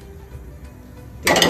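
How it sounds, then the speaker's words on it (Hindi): Metal pan set down on a gas stove burner while cooking Goan chicken xacuti, a sudden bright clank near the end after quiet kitchen hum. "अब हम गैस चालू करेंगे और गैस के पैन चढ़ाएंगे"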